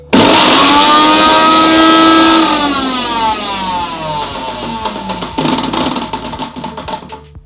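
A Havells Power Hunk 800 watt mixer grinder runs on its pulse setting. The motor whirs up loud and close with a falling pitch, then drops into an uneven rattling spin as the pulse eases off, with no talking.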